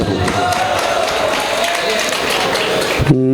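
Continuous applause from a mushaira poetry audience, a dense wash of many hands clapping at a steady level before it abruptly cuts off.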